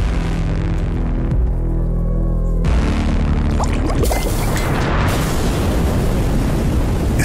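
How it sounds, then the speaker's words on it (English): A loud explosion bursts in a cutscene of the game BattleJuice Alchemist, a deep rumbling roll that breaks into a broad crackling blast and lingers as a heavy roar. "an explosion lights up the night"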